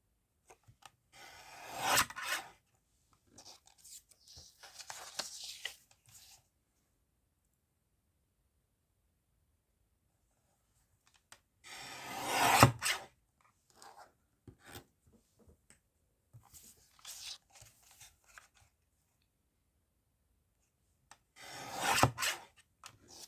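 A small paper guillotine trimmer slices through paper in a crafting session, three separate rasping cuts spaced several seconds apart with faint handling rustles between them, close and fairly quiet.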